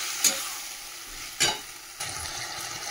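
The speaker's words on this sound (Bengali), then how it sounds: "চলো মশলাটাকে একটু ভালো করে এখন ভেজে নিলাম, কষিয়ে নিলাম" A spice paste with taro stolons frying in a pan, a constant soft sizzle broken by three sharp scrapes of stirring, close and unvoiced.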